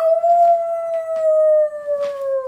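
A person's voice imitates a wolf howling: one long, steady, sustained howl close up, sliding slightly downward in pitch toward the end, with brief breathy breaks along the way.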